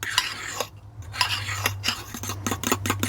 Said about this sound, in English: I'm just going to mix that melted ghee in the batter. Sort of fold it in.